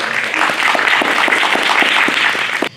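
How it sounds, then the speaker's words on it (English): Audience applause at a girls' safety workshop, a steady, fairly loud wash of clapping from a room of listeners lasting a few seconds before cutting off abruptly. "Now you can clap."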